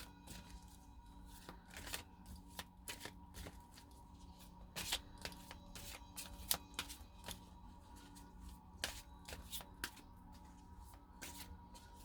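Tarot cards shuffled by hand give quiet, close riffling and sharp little clicks and snaps in an irregular rhythm, soft and alone with no voices.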